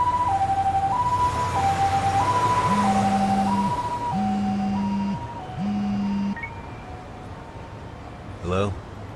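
A two-tone ambulance siren in the video game Lost Judgment wails in a steady alternating pattern, loud at first and then fading as if moving away, with a deeper horn-like tone layered in and a brief burst near the end.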